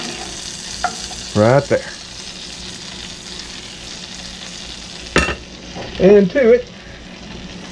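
A New York strip steak sizzling in butter, a soft steady background sizzle heard under brief spoken remarks and a couple of sharp utensil clicks.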